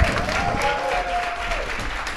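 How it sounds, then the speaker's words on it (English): An audience at a book chat applauds two authors in a short, steady burst of clapping, with a faint tonal hum running beneath it. "Round of applause for both of our authors"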